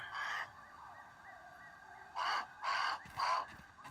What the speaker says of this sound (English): It's that bloody bird. I can hear him.